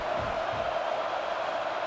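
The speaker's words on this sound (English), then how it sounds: "Home crowd trying to make a difference on fourth down" A home crowd roars at an American football playoff game on fourth down, a steady broad din that sounds distant and fills the whole stretch.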